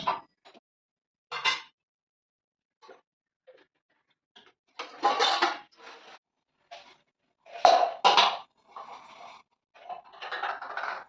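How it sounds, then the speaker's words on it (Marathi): Dishes and pots clatter as they are put away in a home kitchen after washing, with scattered clinks and knocks and louder bursts of clanking, fairly close, no talking. "तर ते भांडे लावायचे."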